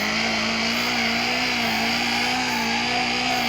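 BMW E30 engine note from a drifting video game on a custom hillside map, a steady droning whine holding a constant pitch, loud and unbroken throughout with no voices.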